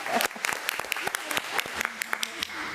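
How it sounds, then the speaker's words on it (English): An audience at a school board meeting applauds with scattered, irregular claps and some cheering, moderately loud, with voices mixed in. "this is what our students deserve, the cheers and the claps"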